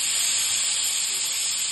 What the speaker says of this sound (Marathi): 3 शिट्या झाल्या आहेत आणि मी आता कुकर उघडते